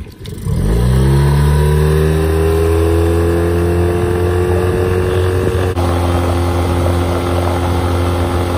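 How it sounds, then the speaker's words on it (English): Tohatsu 9.8 hp outboard motor rises quickly from idle into a loud, steady high-rev drone after a throttle twist, holding its pitch for several seconds, with a brief shift midway and no talking. "When you give this thing a twist of the throttle, she is not scared to give you all she's got."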